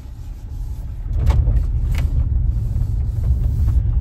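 A car driven along a dusty village road, a loud low engine rumble and road noise that swells after the first second and holds steady close by, with no talking.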